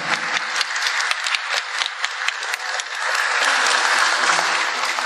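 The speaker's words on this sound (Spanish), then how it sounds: "Fuerte los aplausos para ellos, por favor." Loud, dense audience applause for young violinists at a church music event, many hands clapping continuously and swelling into a fuller, sustained roar toward the end.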